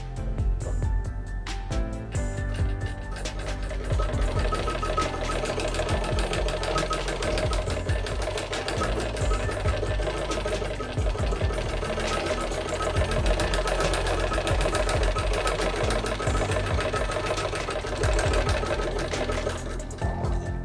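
A sewing machine runs continuously and loudly up close during straight-stitch practice, its fast rhythmic knocking steady for the whole stretch without pauses.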